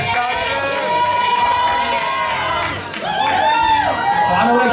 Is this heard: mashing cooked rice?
no